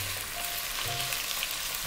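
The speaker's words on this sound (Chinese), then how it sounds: "煸出香味之后呢，我们就开始放鸡丝" Shredded chicken hits hot oil in a wok already fragrant with ginger slices, garlic and scallion, giving a loud, continuous close-up sizzle with no talking.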